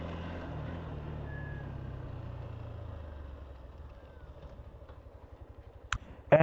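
A Hero Xtreme 160R BS6 motorcycle idles with a faint, low, steady rumble that gradually softens, ending in a couple of brief knocks.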